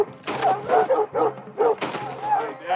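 Dogs barking in the video game Red Dead Redemption 2, with several loud, close barks and yips in irregular bursts.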